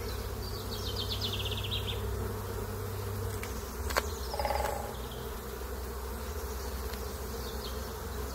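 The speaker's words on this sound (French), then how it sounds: "les butineuses sont en train de rentrer," Honeybee foragers crowd back into a hive during a brood-frame inspection, a steady close insect hum and buzzing drone throughout, with a brief clack near the middle.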